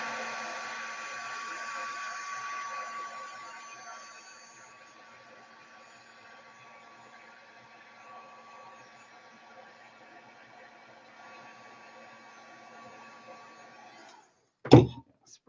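A dryer blows air over alcohol inks, a steady close whoosh that fades to a faint hum after about four seconds, then ends with a brief sharp knock.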